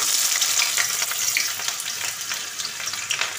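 Chopped onions frying in hot oil in a wok, a loud steady close sizzle with stirring scrapes throughout and no voices.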